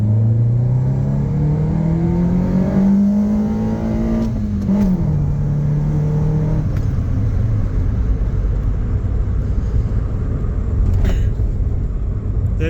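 A Nissan Pulsar N14 with intake modifications accelerates hard uphill, its engine note climbing loudly through the revs, dipping at a gear change, then settling into a heavy, steady drone.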